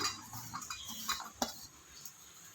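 Freshly grated coconut goes into a pan of roasting ingredients for dry chutney powder, with soft scraping, stirring and light metallic clinks of a spoon against the pan, one sharper tap near the middle, fairly quiet and close.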